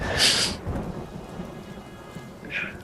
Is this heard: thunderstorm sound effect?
yes